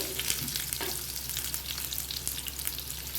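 Hot green chillies, split lengthwise, are stirred in hot oil. The sizzle is steady and fairly close, broken by the scrape and tap of a spoon against the pan, and no one speaks.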